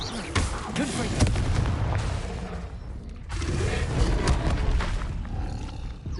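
Confringo fire spell blasts in Hogwarts Legacy on PS5, heavy booming bursts with rumbling roars, two loud surges separated by a brief dip, under spoken spell names.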